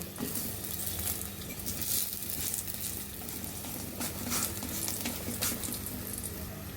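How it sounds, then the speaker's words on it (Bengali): Lachha paratha fries in a pan with a continuous crackling sizzle up close, broken by a few sharper bursts as the flatbread is flipped and pressed. "এভাবে আমরা বারবার এভাবে উল্টিয়ে পাল্টিয়ে রুটিগুলো ভেজে নিব"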